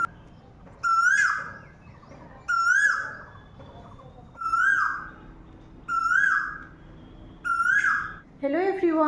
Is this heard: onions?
no